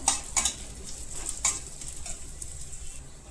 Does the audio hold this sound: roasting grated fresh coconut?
yes